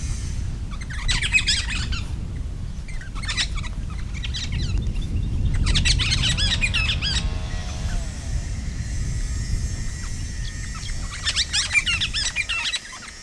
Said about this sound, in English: That's some parrots having a little morning chuckle.